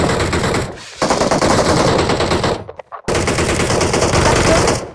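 Rapid automatic gunfire rattles in dense, loud bursts aimed at a boat in PUBG Mobile, with two short gaps between volleys.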